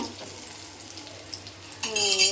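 Food fries gently in a pan, a soft, steady sizzle close by, then a sudden brighter burst of clatter and a ringing tone near the end.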